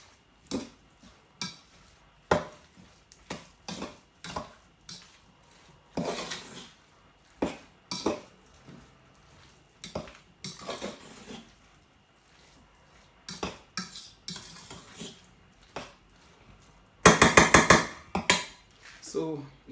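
A spoon stirs peas into potato salad in a bowl, giving close, irregular scrapes and clinks in short bursts, with a dense rapid clatter near the end; a voice is faintly present.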